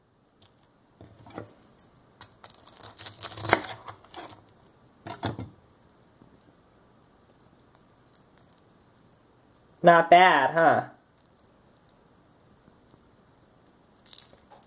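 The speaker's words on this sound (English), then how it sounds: "Hear that crunchy batter?" Crisp crunching bursts as the fried batter of a vegetarian "chicken" tender is cut and broken open, a few separate crackly spurts, followed by a short spoken remark.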